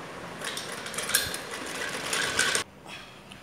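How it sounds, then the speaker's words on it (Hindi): Sewing machine stitching elastic strips for a baby frock, a quick close mechanical whirr of running stitches for a couple of seconds, then stopping abruptly. "ऐसे ही दोनों साइड सिलाई"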